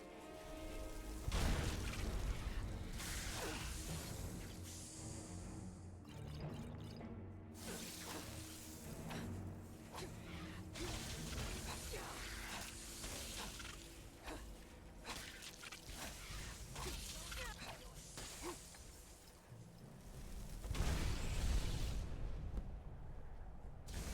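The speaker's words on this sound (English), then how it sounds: "I need elemental explosion again." Elemental Explosion spell cast in Skyrim Anniversary Edition, a string of loud booming blasts and crashing bursts repeating over a busy battle din, with heavy impacts near the start and end.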